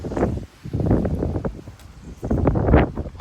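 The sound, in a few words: strong wind gusts blowing through fences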